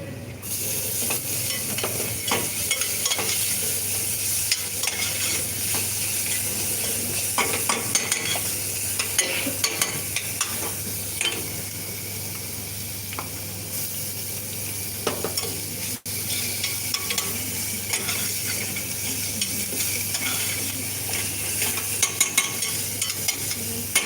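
Garlic and onions sautéing in a pan in a cooking workshop, a continuous even sizzle with a low steady hum beneath and scattered light stirring clicks throughout; no speech.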